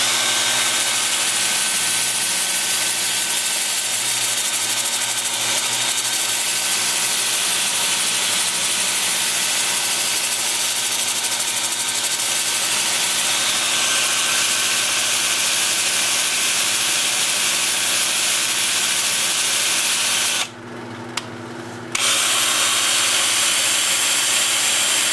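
A power sander with a 2-inch disc works a wooden bowl on a lathe, giving a steady loud whir and hiss that runs throughout. It dips for about a second near the end, then resumes.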